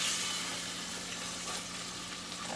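Butter sizzling in a hot pan while making Alfredo sauce, a steady soft crackling hiss with faint scattered pops, fairly quiet throughout.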